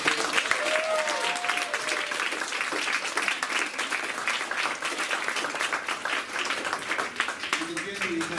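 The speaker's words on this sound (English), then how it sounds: "Can we have one more round of applause for this?" Listeners at a poetry reading by Kenji Liu in a college Asian Pacific American writers series give a sustained round of applause, dense clapping from a small crowd, with a few voices rising briefly over it.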